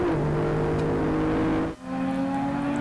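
Onboard a BMW race car at Kyalami Grand Prix Circuit, the engine hums loud and steady, dips sharply for a brief moment, then climbs back to a sustained drone.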